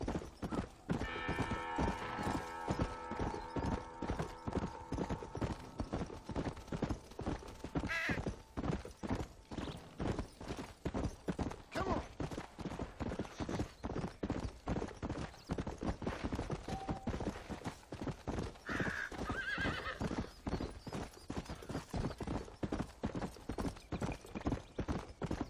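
Horse hooves clip-clopping over rocky ground in Red Dead Redemption on Xbox One, a steady loud galloping rhythm through most of the stretch, with whinnies and brief neighs breaking in now and then.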